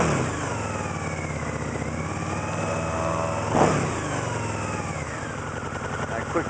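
A 2002 Harley-Davidson VRSCA V-Rod engine running and revving: a steady, rich engine note with a brief blip of throttle midway, close up, with no talk over it.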